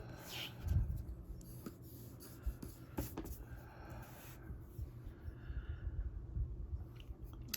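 Prismacolor 10% French gray colored pencil on a greyscale coloring page, soft close scratchy strokes and light rubbing, irregular and faint with brief pauses.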